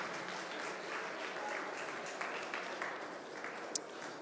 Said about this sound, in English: Nisa, let's give a round of applause